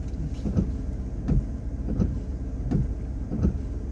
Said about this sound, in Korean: 5초 내에 와이퍼를 작동하세요.